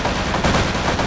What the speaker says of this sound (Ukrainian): Там хтось зверху стріляє чи що?